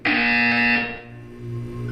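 A harsh electronic buzzer sounds in the Portal 2 video game, one loud, distorted, rasping blast of about three quarters of a second that cuts off into a quieter low hum.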